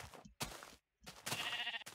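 Minecraft sheep bleating in the video game, a few short bleats separated by brief silences, clear and close.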